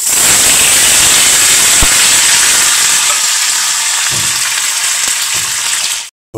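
Pumpkin pieces dropped into hot oil with cumin set off a loud, bright sizzle that eases slowly over several seconds, with a few stirring knocks before it cuts off.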